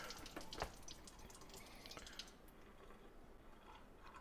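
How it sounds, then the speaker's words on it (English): Water running and gurgling as a sink drains, steady and close with faint drips and splashes throughout, alone with no talk. "Let that drain, put our plug back in, put some hot water in here."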